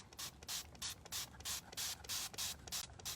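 A squirt bottle sprays water in a rapid series of about a dozen short hissing bursts, close and quiet, with a faint clicking trigger between squirts.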